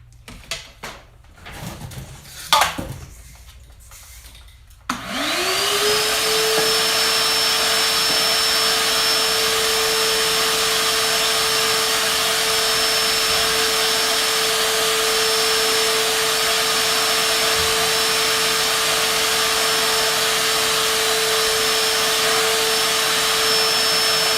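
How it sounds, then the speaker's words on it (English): A vacuum cleaner clatters and handles knock for a few seconds, then the motor starts and runs loud and steady with a constant whine, close by, while cleaning a Tecumseh mower engine. "I'm going to vacuum it real fast"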